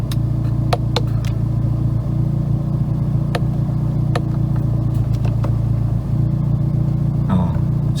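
A Hyundai Veloster N's exhaust idles after a drive-mode change, a loud, steady low rumble with a couple of faint clicks and a brief dip near the end, and no talking.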